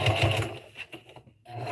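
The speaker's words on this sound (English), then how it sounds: "I'm sewing across the bottom of my bag." A sewing machine runs up close as it stitches across the bottom of a tote bag, whirring rapidly, then briefly slowing and stopping before starting again near the end.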